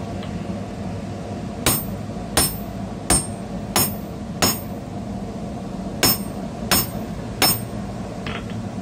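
A hammer strikes an unusual bevel-edged chisel to slit the eye of a hammer head. Eight sharp, ringing metallic blows land at a steady pace, with a pause partway through.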